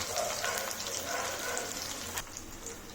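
Onions sizzle in hot oil alongside cumin and peppercorns as the base for a fish curry, a steady close crackling hiss that runs throughout with a brief sharp pop near the end.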